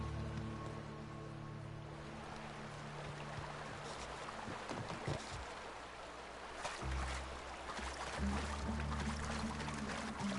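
A steady rushing waterfall at Fallbrook in the video game The Outer Worlds, a constant broadband wash of falling water with low background tones and no talk.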